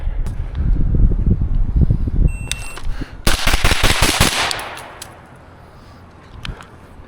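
Gunshots fired outdoors at a shooting range during drills on a spring day, a quick string of sharp, loud cracks in close succession followed by a fading echo, with wind noise and rustling in the background.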